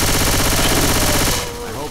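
Rapid automatic gunfire in the game Left 4 Dead 2, a loud, dense stream of repeated shots for over a second before cutting off, followed by quieter game noise and faint voices.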